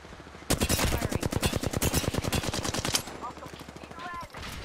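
Rapid automatic gunfire from the video game Apex Legends on the World's Edge map, a long loud burst of evenly spaced shots followed by sparser bursts and faint in-game effects.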